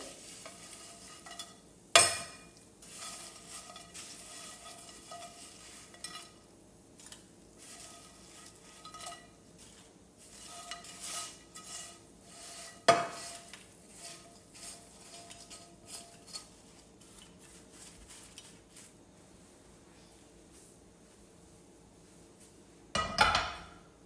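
French fries tossed into garlic butter in a pan and stirred, giving a quiet running sizzle under repeated scraping and rustling strokes, with a few sharp clinks of utensil against pan, close by and without talk.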